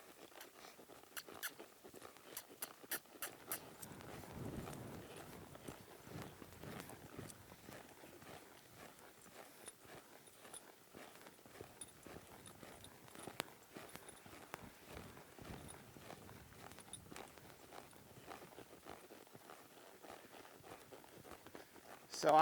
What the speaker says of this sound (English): I might lope him off again, but this time I'll try to get him to the lope myself.